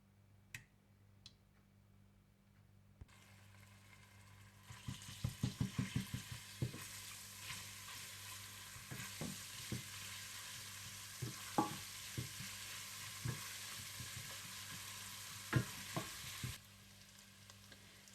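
Whole cumin seeds, ginger and garlic sizzle and crackle in hot oil, starting after a few quiet seconds. A steady close hiss carries on throughout, with sharp pops and utensil taps scattered over it.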